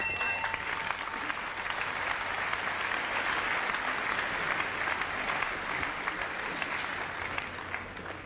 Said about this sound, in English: Polite applause from the crowd, but very little enthusiasm.